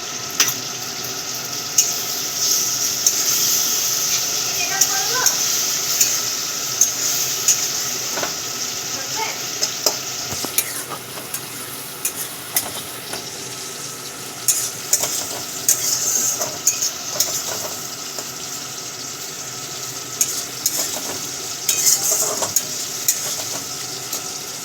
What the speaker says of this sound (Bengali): এই টমেটো গ্রেটটা এখানে দিই